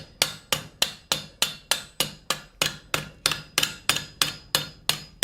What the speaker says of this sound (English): I'm hammering on that edge, so I'm going to take that off.